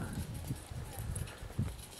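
A horse's hooves trot on a dressage training arena. The footfalls come as a steady, regular beat close by, with outdoor background noise around them.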